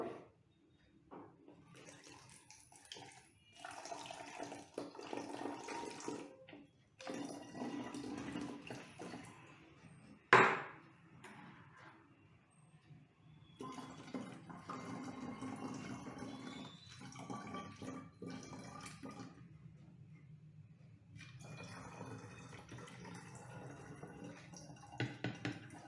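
Water poured into a bottle with a hole, quiet intermittent gurgling and trickling in several separate pours with pauses between, plus one sharp knock partway through.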